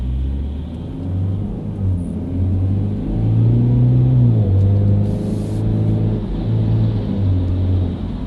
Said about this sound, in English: it's important that it not be annoying or uncomfortable in any way to have the engine operating at that RPM